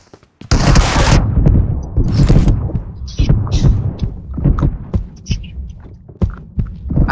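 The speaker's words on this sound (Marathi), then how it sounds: "अरे 3 गोळ्या मारल्यात त्याला." Rapid gunfire shots in a video game, with a loud opening burst followed by repeated sharp bangs that stay dense and punchy throughout.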